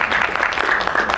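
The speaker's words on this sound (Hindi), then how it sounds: "इनके लिए बहुत बहुत तालियां हो जाए एक बार" A crowd claps steadily and loudly throughout a film trailer launch event, a dense burst of applause.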